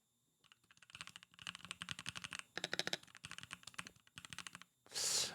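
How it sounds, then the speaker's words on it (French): Rapid clacking bursts of typing on a mechanical keyboard with lubricated switches come through close and crisp in quick clustered runs with short pauses, ending in a brief rush of noise. "Vous êtes trop habitués à avoir des switches lubrifiés, etc., qui font ce bruit-là"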